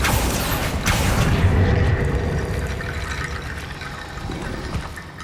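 A Bombarda blasting spell goes off inside a tomb in Hogwarts Legacy, a booming burst early on that decays into a rumbling, watery rush and settles into a lower murmur.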